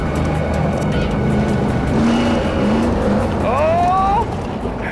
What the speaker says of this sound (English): Oh, sideways around the corner. brave over there. Oh, he's drifting this corner.